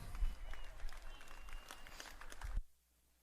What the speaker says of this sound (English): how about a round of applause for all of our down riders